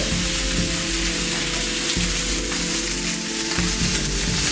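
Meat sears in a hot pan with a loud, steady, crackling sizzle that stays even throughout, close up and uninterrupted by speech.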